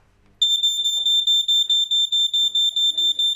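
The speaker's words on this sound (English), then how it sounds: "This is a smoke alarm." A smoke alarm beeps loudly and rapidly in a steady piercing pulse after a brief quiet start, with faint voices murmuring underneath.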